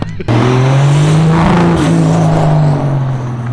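A Nissan Skyline R34's RB engine roars at high revs on a dyno with a sudden burst at the start, holding a steady strained drone before easing slightly.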